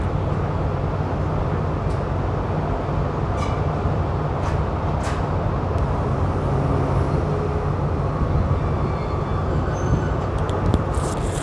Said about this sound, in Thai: ตอนนี้ขบวนรถของเราก็ออกจากสถานีดอนเมืองนะ